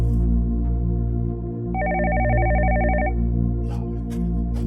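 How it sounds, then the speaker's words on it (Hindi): A telephone rings with one steady electronic trill lasting over a second, clear above a low humming background with no talking. "एक और फोन आ गया।"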